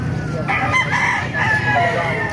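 A year-old Golden Boy Sweater gamefowl rooster crows loudly and close, giving one drawn-out, wavering call over faint background noise.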